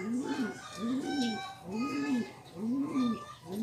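Racing pigeons kept in a loft coo in a steady series of four low, rolling calls, close and fairly loud against a quiet background.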